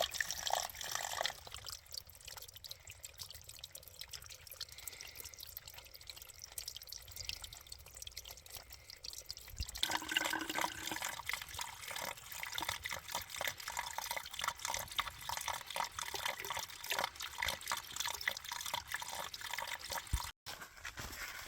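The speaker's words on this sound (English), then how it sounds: "I was able to fill up my water bottle without taking some of the filtered water that I have with me" Water trickles and drips from a trail water source into a bottle outdoors along the Appalachian Trail, a faint, uneven splashing that shifts in tone partway through, with no speech.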